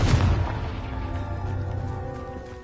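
A fiery Confringo spell blast in Hogwarts Legacy: a single loud, close boom with a sharp onset that rolls off into a long, decaying rumble.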